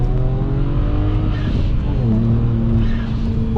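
Car engine with a recently changed exhaust revs steadily and loudly up close, a droning, rising and falling engine tone that runs continuously throughout.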